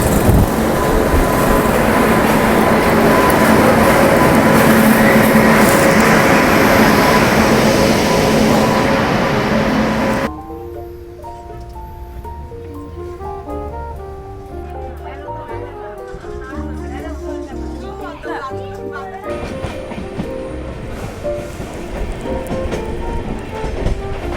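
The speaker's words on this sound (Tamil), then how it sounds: "ட்ரெயின் வந்துடுச்சு கேஸ்." A train rumbles past close by, loud and steady, then the roar drops off abruptly, leaving quieter rail clatter and background noise with people talking.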